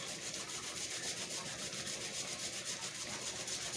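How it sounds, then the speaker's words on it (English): Fresh ginger rasped on a grater over shrimp for curry, a close, steady scraping rub repeated in quick even strokes without talk. "I'm gonna grate a little ginger on top."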